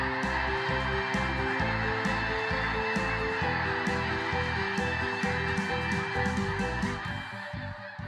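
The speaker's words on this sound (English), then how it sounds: "Those are geese getting up from that lake." A large flock of geese lifts off from a lake, a dense, continuous chorus of loud overlapping honks with a rushing wash of wings and water beneath, fading slightly at the end.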